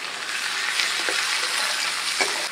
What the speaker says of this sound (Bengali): তেল গরম হয়ে গেছে, পেঁয়াজ আর রসুনটা অ্যাড করে দিচ্ছি।